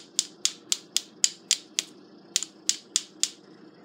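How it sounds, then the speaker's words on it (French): An Aqua-Painter water brush struck repeatedly with a bone folder, about a dozen sharp, crisp clicks in a steady rhythm with one short pause, close and clear with no voices. "je vais venir cogner mon Aqua-Painter avec des ciseaux ou un objet rigide"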